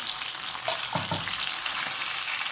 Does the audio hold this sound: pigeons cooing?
no